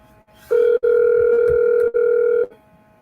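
A telephone ringback tone on an outgoing call sounds loud and steady, broken into a few segments by brief gaps, with no talking.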